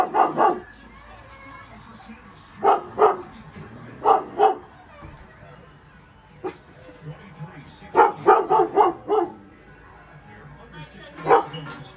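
A guard dog barks in short clustered volleys of three to five loud yaps, close by, with pauses between bursts while people talk in the background.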